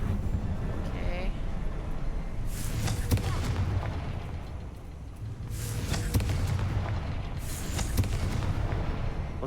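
A Confringo spell in Hogwarts Legacy sets off repeated booming explosions, one burst early and a pair of blasts later, loud and close, with voices talking around them.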